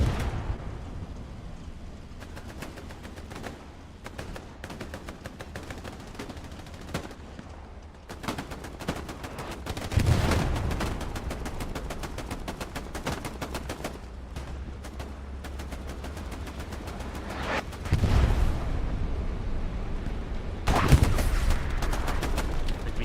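Tank fight in Hell Let Loose, a sustained stretch of battle noise with rapid gunfire bursts and several heavier booming blasts, loud and continuous with no talking.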